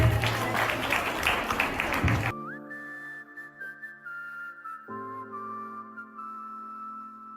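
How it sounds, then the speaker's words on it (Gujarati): Audience applause at a first showcase event fills the opening two seconds as dense, loud clapping, then cuts off abruptly into steady sustained tones. "તાળીઓ થાય બધા માટે."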